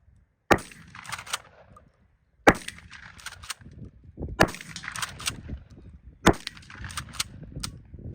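Four loud, sharp blasts from a KelTec KSG bullpup 12-gauge shotgun, spaced about two seconds apart, each trailing off into clatter and echo, with no talking.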